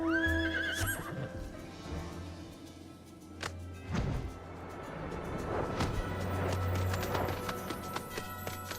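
A unicorn mount in the video game Final Fantasy XIV gives a clear, close whinny at the start, followed by steady game ambience with soft hoof thuds and clip-clop.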